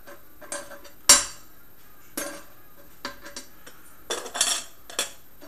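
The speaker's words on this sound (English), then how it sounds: "take the stove and pot off" A small camping stove and pot being lifted off and handled, with a sharp metallic clank followed by scattered lighter clinks and taps over several seconds in a quiet setting.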